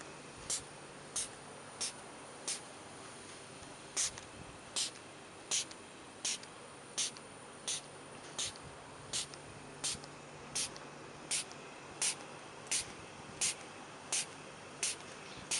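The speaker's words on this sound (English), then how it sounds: "The argon is flowing out of the valve, which you can see comes preset." Argon gas flows out of a preset valve on a weld purge system, a faint steady hiss running under a regular series of short, sharp ticks that repeat about every half second.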